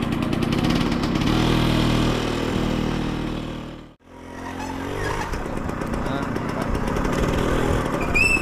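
A motorcycle engine runs loudly and close with a steady mid-pitched drone, briefly cut off midway before resuming, while people talk over it.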